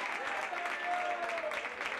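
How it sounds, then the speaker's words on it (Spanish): Football crowd at a UD San Pedro versus Alhaurín de la Torre CF match applauding steadily, a dense continuous wash of clapping with a faint whistle-like tone running through it. "el público aplaude el esfuerzo"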